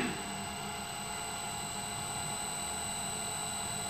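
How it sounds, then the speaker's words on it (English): An electric motor runs with its speed set through a drive's frequency control, giving a steady, even mechanical hum that holds at one level throughout. "Which in turn is also adjusting the speed of the motor."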